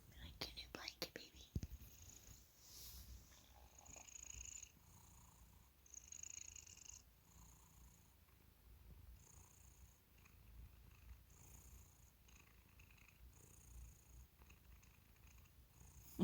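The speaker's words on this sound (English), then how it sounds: "You're purring." A cat purrs softly and steadily up close, a low continuous rumble, with quiet whispered talk drifting in now and then.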